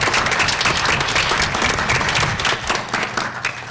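An audience at an award ceremony applauds steadily, a loud and dense wash of clapping that holds for the whole stretch.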